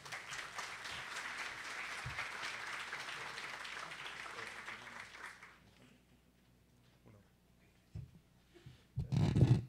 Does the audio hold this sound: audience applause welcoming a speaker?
yes